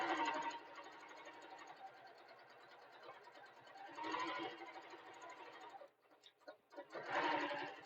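A sewing machine chain-stitches a quarter-inch seam on a tote bag, running in quick loud bursts separated by a steadier, quieter hum of stitching, fairly close and with no talk over it.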